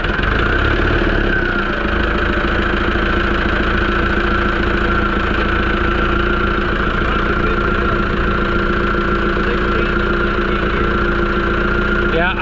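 Old tractor engine, an Oliver 1465 or John Deere 2010, idling loud and close with a constant low rumbling drone and slight knocking throughout, people talking faintly underneath.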